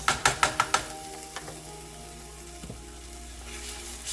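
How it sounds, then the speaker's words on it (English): Steady, close sizzling of tomato puree frying in a pan, opening with a few quick tapping knocks of stirring, then a continuous crackling hiss. "Keep stirring. Ooh, that sizzling sound."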